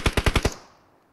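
A quick burst of five M4 rifle shots in the video game PUBG Mobile, loud and evenly spaced, with a short ringing tail fading out afterward and no talking.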